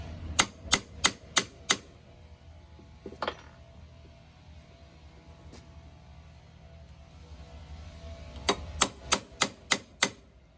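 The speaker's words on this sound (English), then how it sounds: "use a starter punch to make a divot right in the center of the broken bolt" Sharp metallic taps of a hammer striking a center punch into a broken bolt on a lawnmower deck ring out in quick rhythmic runs of five or six blows at the start and the end, with a quieter pause between.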